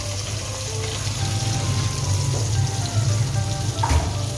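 Half-cooked chicken kababs drop into hot masala in a pan, giving a steady close sizzle and crackle with a few soft clinks and splashes near the end, no voices.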